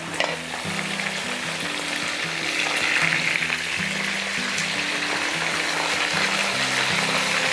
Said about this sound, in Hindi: तो इसको हम कंटिन्यूसली फ्राई करेगा 1 मिनट तक है ना